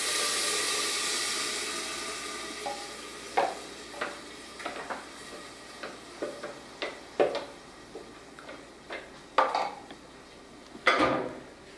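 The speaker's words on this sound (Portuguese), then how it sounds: "nós vamos despejar a abóbora batida" Blended pumpkin going into a cooking pot on a lowered stove for pumpkin soup, heard as a string of soft clinks and scrapes of utensils against the pot, close and fairly quiet, with a louder clatter near the end.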